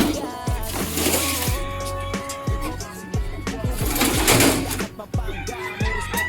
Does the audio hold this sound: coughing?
no